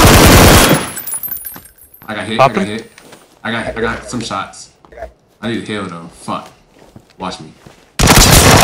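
Rapid automatic gunfire from a video game shooter crackles loudly at the start and again at the end, with excited talk filling the stretch between the bursts.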